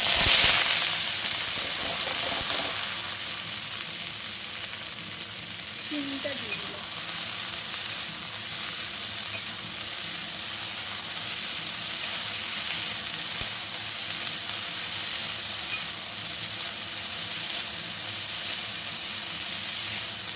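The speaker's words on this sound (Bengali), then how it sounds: "আর একটু কালো জিরে ফোড়ন দিয়ে দিলাম সুন্দর গন্ধ বেরিয়ে গেছে" Nigella seeds (kalo jira) tempering in hot oil: a loud, continuous sizzle that bursts strongest at the very start, then settles into a steady close-up hiss that lasts throughout.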